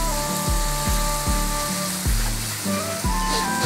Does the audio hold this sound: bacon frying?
yes